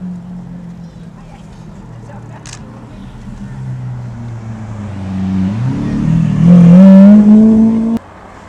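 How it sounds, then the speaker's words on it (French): A McLaren 570S sports car pulls up in Knokke, its engine note rising into a loud rev before cutting off abruptly, with someone talking over it. "Une 570S qui arrive, qui appartient à McLaren."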